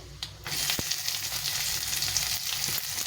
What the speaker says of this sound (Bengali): এখন আমি দিয়ে দেবো 1 বাটি পেঁয়াজ।